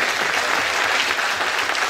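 Audience applause for Monsieur Norbert at the Cévennes Caravanes festival in 2019, a dense, even burst of clapping from a crowd, loud and sustained for a couple of seconds.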